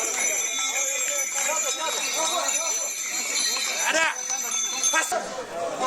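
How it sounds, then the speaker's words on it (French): Horses ridden by monks circle the monastery at Litang in Tibet during a festival, their hooves clopping steadily amid ringing bells and bleating animals, with a crowd talking all around. "les moines donc partent à cheval faire tout le tour du monastère"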